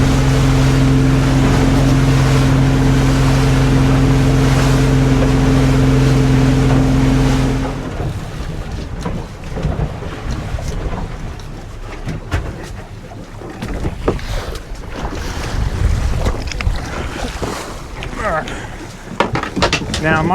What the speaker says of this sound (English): Now my boat is in gear while I let the boat just drive forward